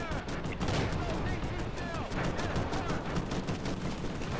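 A boulder turret fires in a video game amid a rapid, continuous volley of shots and crashing impacts, loud and busy throughout.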